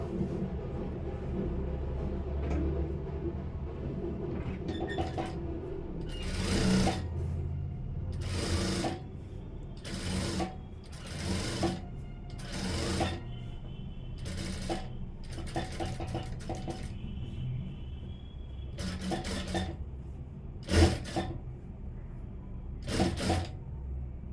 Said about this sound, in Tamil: இப்போ நம்ம தையல் வந்து போட்டுவிட்டோம் ஓரமாக